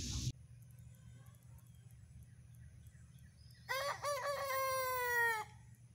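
Two roosters crow one after another at a small off-grid homestead, loud harmonic calls rising over a steady low rumble of background engine or mower noise, with no talk.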